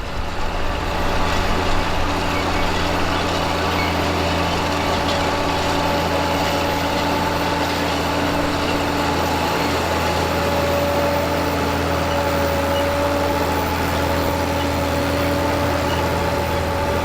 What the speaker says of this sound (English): the 186 horsepower TW-35 sounds fantastic lugging them across the field.